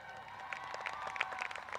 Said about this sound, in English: Can I hear clapping for that?